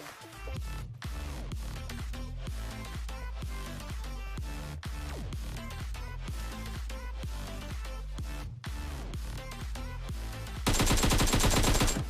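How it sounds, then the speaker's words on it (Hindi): Rapid gunfire in a shooter video game: dense, close bursts of automatic shots firing continuously in quick rhythm, with a harsher louder burst at the end, no talk. "मैंने पहले फायरिंग शुरू करी, लेकिन फिर भी उसने मेरे को इतना डैमेज दे दिया"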